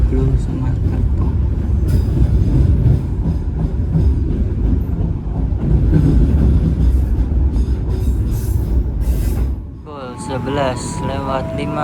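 The Sancaka Utara passenger train pulls into Solo Balapan station with a loud, continuous rolling rumble and rattle of the carriages, easing off near the end into a quieter stretch with some clatter.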